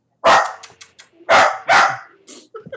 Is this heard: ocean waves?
no